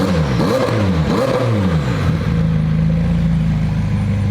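A wrecked McLaren 720S with a failing, smoking engine revs up loudly twice in sweeping surges, then settles into a rough, steady idle drone.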